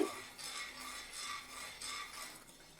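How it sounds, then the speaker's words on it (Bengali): Spices with Kashmiri chilli powder being stirred and sautéed in a pan, soft repeated scraping and light clinking of a spoon in slow sweeping strokes, close and fairly quiet with no voices. "কিছুক্ষণ এটাকে নেড়ে চেড়ে কষিয়ে নিতে হবে"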